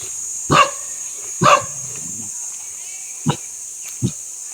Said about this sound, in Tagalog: Nakatahol-tahol.